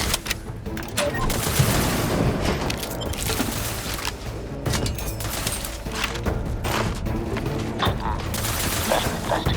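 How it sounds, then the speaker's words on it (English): Artillery fire in The Outer Worlds 2 pounds away as dense, continuous booming and crackling bursts, loud and sustained, layered with other game sounds and a voice. "artillery!"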